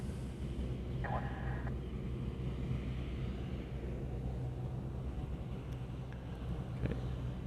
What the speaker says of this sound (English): That is a Dreamliner 9 coming in from the other end of Tokyo.